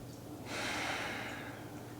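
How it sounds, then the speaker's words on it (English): One slow, soft breath during a gentle yoga session, a faint airy exhale that rises and then fades against quiet room noise. "Just come back to your natural breath."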